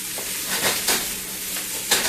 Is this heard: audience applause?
no